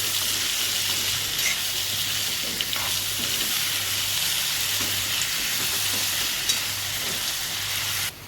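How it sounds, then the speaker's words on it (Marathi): Raw mango pieces sautéing in a pan with jaggery and chilli powder give a loud, continuous sizzle and hiss with faint stirring scrapes, steady throughout and close by. "आता परतून घेऊया आपण"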